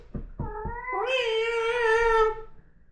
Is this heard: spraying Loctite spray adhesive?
no